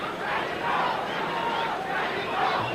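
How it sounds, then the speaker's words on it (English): Mexican crowd chanting at a sold-out Las Vegas boxing match, a broad roar of many voices rising and falling in sustained waves, distant and filling the arena without pause. "The chants of Mexico from the crowd"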